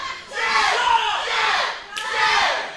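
A wrestling crowd at a ProSouth Wrestling event shouts and chants in loud, swelling waves, rising and falling about three times in quick succession.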